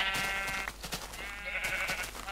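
Sheep in the video game Minecraft give two drawn-out bleats, one after the other, each clear and close with nothing else over them.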